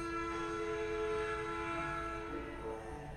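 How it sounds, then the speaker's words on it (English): A train passes near an outdoor television shoot, a sustained rumbling roar with a long, steady horn-like tone, fairly loud and continuous for the whole stretch with no talk. "Oh, it's a train."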